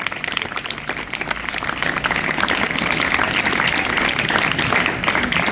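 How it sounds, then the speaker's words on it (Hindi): A school house-activities audience applauds a girl student anchor from Karma House with loud, sustained clapping that builds and holds as a dense, steady roar. "जोरदार तालियां इस बिटिया के लिए।"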